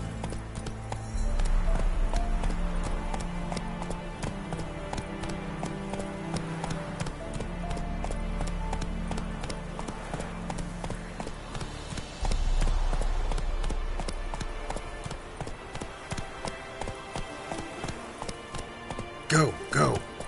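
Horse hooves clip-clopping at a run in The Witcher 3, a steady rhythmic beat over game music and background ambience, with occasional talk layered in.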